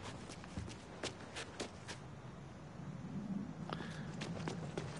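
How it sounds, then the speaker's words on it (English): Heavy footsteps of a big zombie in the video game Dead Island 2, a series of loud, spaced thuds over a steady in-game ambient background, growing busier toward the end. "if you hear those loud footsteps, that's probably one of the bigger ones"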